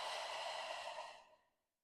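A single slow, airy exhale during seated yoga, steady and close for over a second before tapering off into silence.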